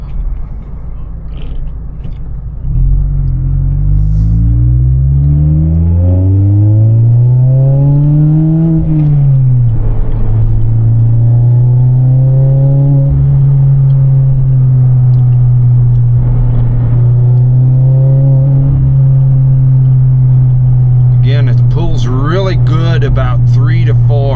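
Mazda ND Miata with an AutoExe ram air intake, its engine note rising as it accelerates and then holding a steady loud drone, with a voice speaking over it near the end.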